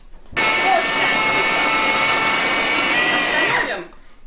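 A blender whirs loudly and steadily for about three seconds while mixing a chocolate-beetroot dessert, then winds down and stops.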